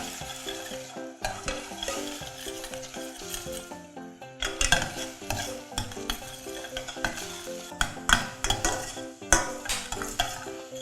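Eggs are stirred quickly in a hot pan for egg larb, a metal utensil scraping and clinking against the pan over a soft sizzle, with sharper clatters in the second half; no talking.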